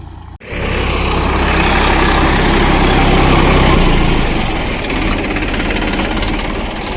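A tractor engine runs loud and close in a field while sesame is sown, a steady heavy rumble that starts abruptly after a brief pause and holds throughout, easing slightly near the end. No voices.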